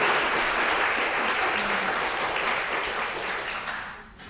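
Sustained, dense applause from a theater audience that holds steady and then tapers off toward the end.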